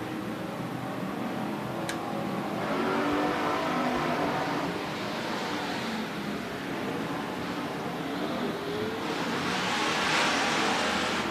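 Hobby stock race cars circle a slimy dirt oval during a hot lap session, engines droning and rising as they pass at a distance, a steady moderate roar with no talk.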